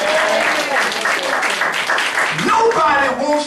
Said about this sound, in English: let's give out a hand clap